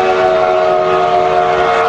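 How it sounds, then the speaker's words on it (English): The Durango and Silverton train, engine 466, arrives at the station with a loud, sustained whistle blast, a steady chord of bright tones that holds for the full two seconds over a rumble. "it's coming right into the station right now"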